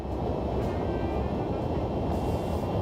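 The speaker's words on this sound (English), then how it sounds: "Nothing better than the sound of the engine spooling down for descent." A simulated MD-11 freighter's engines spool down for descent in X-Plane 12, a steady, loud low-pitched rumble with a faint high whine on top, constant throughout with no talking.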